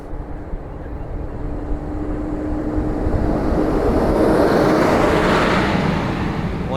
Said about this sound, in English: here comes a diesel pusher down the road